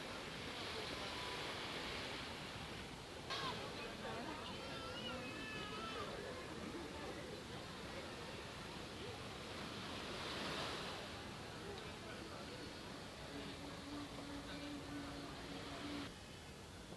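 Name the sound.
ocean waves at beach area of Margaritaville, Ocho Rios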